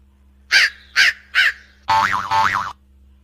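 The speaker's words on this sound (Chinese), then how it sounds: "在这里呢就有一个乌鸦的这个音效" Crow caws from a sound-effect recording: three sharp, evenly spaced calls, then two longer, wavering caws, loud and close against silence.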